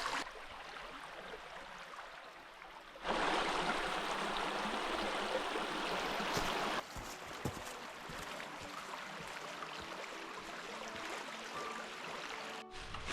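Minister Creek flows past as a steady rushing stream, its broadband water noise swelling louder for a few seconds in the middle before easing back to a softer, continuous babble.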